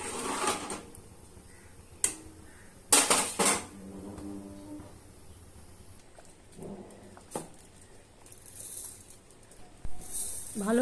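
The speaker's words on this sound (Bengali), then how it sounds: "এগুলো সব অ্যাড করে ভালো করে নেড়ে নিব যাতে তলাটা না লেগে যায়" A spoon stirs payesh, Bengali rice pudding, in a pot over a low gas flame, giving scattered metallic clinks and scrapes against the pot with quiet gaps between, close by and with no talking.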